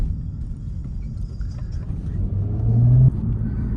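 A turbocharged V6 in an Audi S5 Sportback gives a low, steady rumble from inside the cabin, rising in pitch and loudness toward the end as the car pulls harder, then cutting off abruptly.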